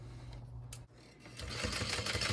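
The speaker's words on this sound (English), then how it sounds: "I'm going to back stitch over the seam." A sewing machine back stitches over a seam in short, quiet bursts: a brief run, a pause, then a steadier whirring stitch toward the end.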